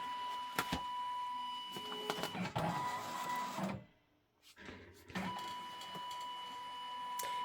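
An OESD-setup embroidery machine scans its hoop with a built-in camera, giving a steady mechanical whir with a high tone and clicks, a brief near-silent dip partway through, then the whirring again.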